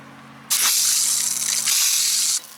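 A garden hose's 10-function nozzle with brass connectors sprays water in a soaker pattern, a steady close hiss that starts abruptly, runs for about two seconds and cuts off, over a faint low hum.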